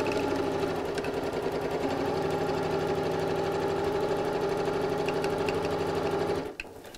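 A sewing machine runs steadily, stitching a quarter-inch seam on an autumn cushion with a shortened stitch length of about 2.5. It keeps up a continuous, even whir for several seconds, then stops abruptly near the end.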